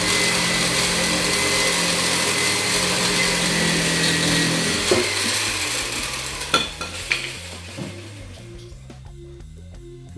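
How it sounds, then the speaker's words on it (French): A jigsaw cuts through a wooden pallet, its motor giving a loud, steady buzzing rasp for several seconds before winding down, followed by a few sharp clatters and knocks of wood. "Donc une scie sauteuse"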